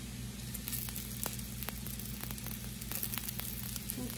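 Potatoes frying and browning in a pan, a steady close sizzle with small crackles and pops throughout, no talking.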